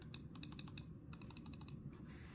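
Logitech MX Anywhere 3 mouse buttons click in two quick bursts of sharp, evenly spaced taps, close and fairly loud over a quiet room hum.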